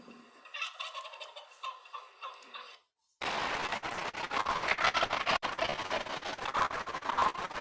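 Young male wild turkeys (jakes) gobble in repeated bursts, first thin and distant, then a dense, loud, overlapping chorus from several birds close by, with no talking.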